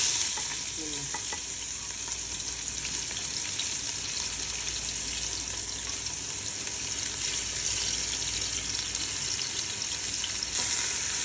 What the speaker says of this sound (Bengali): এবার আমি তেলের মধ্যে পেঁয়াজ তেল এনে দিচ্ছি